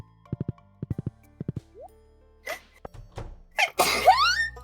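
A series of short electronic beeps and tones, then clattering, followed by a loud, sharp sneeze close by.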